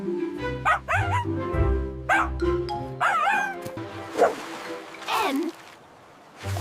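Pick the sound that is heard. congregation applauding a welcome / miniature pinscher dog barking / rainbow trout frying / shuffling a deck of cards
miniature pinscher dog barking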